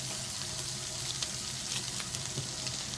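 Ham sizzling in melted butter in a hot frying pan, a steady close crackle with small pops and no talk.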